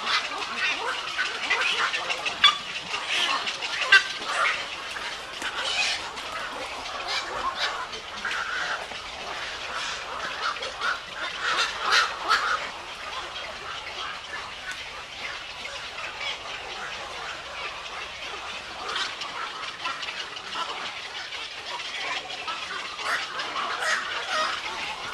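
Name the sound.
birds at Baras Bird Sanctuary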